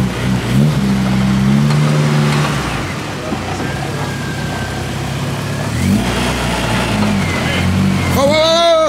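Tuned Honda K-series car engine, close and loud, idling and then climbing through revs in a couple of rising pushes, with people talking nearby and a sharp rising rev near the end.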